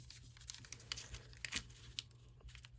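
Paper being folded and creased for a junk journal pocket, faint close crinkling and crisp rustles in quick irregular bursts over low background hum.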